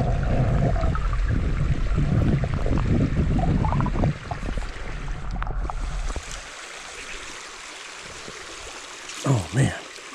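Fast-flowing trout stream water rushes loudly and close at first, a steady broadband wash that drops to a quieter, more distant flow halfway through, with a couple of brief splashes near the end.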